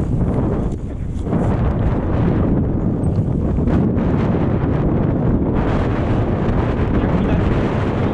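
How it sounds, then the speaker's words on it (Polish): Strong wind beside the Vistula river buffets the microphone in loud, continuous low roaring gusts, with a brief lull near the start and no voices. "Jak widać, troszkę spory wiatr."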